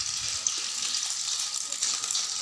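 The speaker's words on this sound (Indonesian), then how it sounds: "Pertama-tama kita goreng telur dulu." Beaten egg for an omelette-style fried egg sizzles in a hot pan, a constant bright crackle that stays close and steady with no talking.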